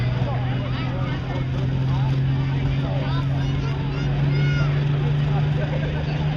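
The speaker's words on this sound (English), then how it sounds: "bringing up the RPM, looking for black smoke. Getting all those turbochargers spinning." A pulling tractor engine with four turbochargers revs steadily at a tractor pulling event, a loud, sustained drone with a strong low hum, heard over crowd noise and voices.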